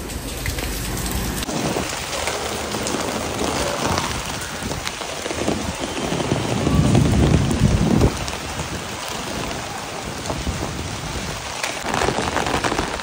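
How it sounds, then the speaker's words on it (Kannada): Heavy rain pours steadily outdoors near a parked car, a loud, dense, unbroken hiss that swells briefly in the middle. No voices are heard. "ಮಳೆ ಫುಲ್ ಕಾರಲ್ಲೆಲ್ಲ ನೀರು ಬಿದ್ದುಬಿಟ್ಟಿದೆ."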